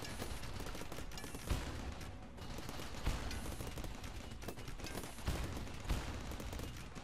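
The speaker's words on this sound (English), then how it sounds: "You guys are just gonna shoot each other like that." Scattered gunfire from a firefight in RimWorld, a dense crackling barrage with several sharper shots standing out at intervals, moderately loud and continuous.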